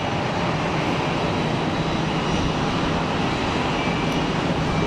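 A Pilatus PC-12 turboprop at Geneva Airport gives a loud, steady broadband engine roar that holds unbroken throughout, close by with no talk over it.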